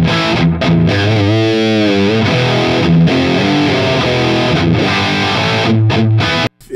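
A Les Paul electric guitar fitted with WCR pickups plays loud, heavily distorted chords and riffs through a miked guitar cab, with sustained crunchy tones, brief pauses between phrases and an abrupt cutoff at the end.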